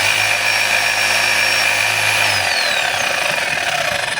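DeWalt D25810 jackhammer running on a test, a loud constant motor drone whose low rumble drops away partway through while a buzzing whine carries on close by.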